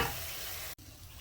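Bitter gourd frying in hot oil, a dense steady sizzle that breaks off for an instant midway and then resumes slightly quieter.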